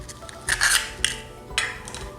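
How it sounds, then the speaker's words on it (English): Eggs cracked into a bowl while cooking Singaporean noodles in a home kitchen: a few sharp taps and clinks against the bowl rim, spaced out, close and clear. "I'm just going to equally crack my eggs."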